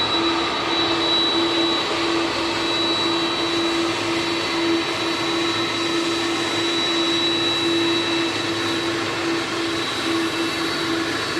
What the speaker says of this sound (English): And now you see that plane pulling up.